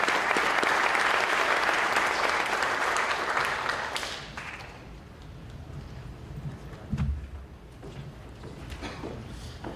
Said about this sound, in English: Give these boys a round of applause